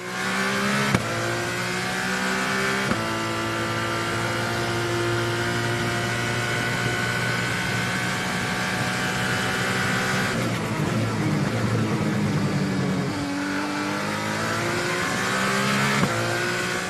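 Formula 2 race car engine heard onboard at the 2019 Russia Grand Prix: loud, continuous high-pitched wail that climbs through the revs, with abrupt pitch drops at each gearshift, close and unbroken throughout.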